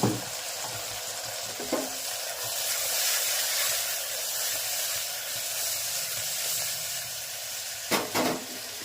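Vaghar sizzles as spices temper in hot oil for a kantola (spiny gourd) curry, a dense, steady hiss and crackle close by. A few brief stirring scrapes break in near the start and end.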